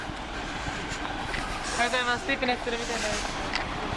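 A train runs on the Tokyo–Yokohama main line, a steady rumbling roar with faint squealing tones, heard from nearby in an urban area with voices in the background.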